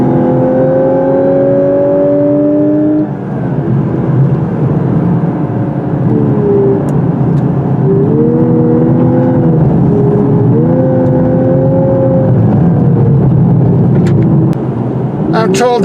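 A 2018 Lexus LC500h hybrid pulls away in automatic sport mode, its engine note climbing and shifting pitch in steady sweeps over a constant road and wind rumble, heard from inside the cabin.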